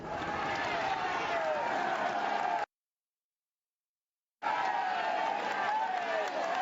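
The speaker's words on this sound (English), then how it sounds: "Massive crowd on the Crosara as they cheer the local man, Visconti." A massed roadside crowd on the Crosara climb cheers and claps for a rider at a Giro d'Italia stage, a dense, continuous roar with commentary voices over it and a gap of total silence partway through.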